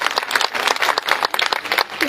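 An audience at a poetry recital in Banaras claps in a short, dense burst of handclaps, loud and close, with no talking over it.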